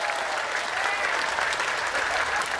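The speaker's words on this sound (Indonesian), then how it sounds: "tepuk tangan untuk NO Taiwan" Steady, dense applause fills a crowd at an Islamic religious lecture held in Taiwan, continuous and loud throughout.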